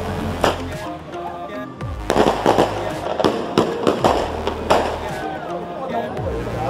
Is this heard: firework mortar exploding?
yes